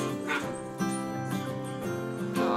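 Goldendoodle puppies yip and whimper in short, high bursts, several small voices overlapping at close range.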